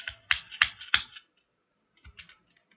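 Keyboard typing while code is worked through: a quick run of sharp, close key clicks in uneven bursts, then a pause and a few lighter taps.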